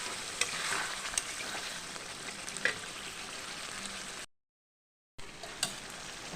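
Chicken and potatoes cooking in a covered pan over a low-to-medium gas flame give a steady soft frying sizzle with occasional small pops and crackles, alone and with no talk. A short silent gap interrupts it before the sizzle resumes.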